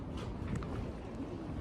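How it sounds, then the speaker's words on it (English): Wind gusts at the end of a pier on the Clyde at Helensburgh, Scotland, a brief close rush of buffeting noise over the microphone with no other clear sound. "It's a bit windy"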